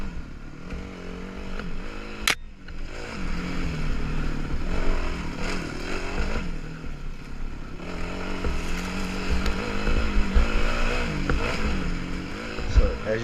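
Kawasaki KLX 400 dirt bike, a heavy trail machine, droning steadily along a loop through the woods with a rough, continuous engine note that rises and falls, plus a sharp knock near the start.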